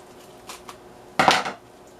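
An African violet is set down into its new pot, giving a few faint clinks and then one louder scraping, clunking burst of pot and soil handling, alone with no talk.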